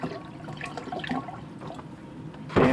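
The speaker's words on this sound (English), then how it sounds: "Put some more water in." Water poured into a container on a workbench, a soft trickling and splashing that ends in a brief louder gush.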